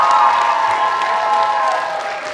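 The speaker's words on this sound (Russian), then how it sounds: "аплодисменты." A loud, continuous crowd response at a KVN comedy league final at Bashkir State University: dense applause blended with cheering and a sustained tonal roar, steady and full for the whole stretch.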